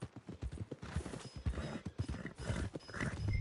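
Horse hooves clip-clop in a steady walking rhythm in Red Dead Redemption 2, close and moderately loud, with a brief whinny near the end.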